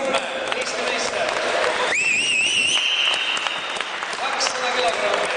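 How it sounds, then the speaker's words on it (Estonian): Sustained audience applause fills a national bench press championship hall in Estonia, a steady dense clatter of clapping with crowd noise; a whistle-like tonal sweep rises briefly in the middle. "Nüüd peaksid aplausid nii kaua kestma"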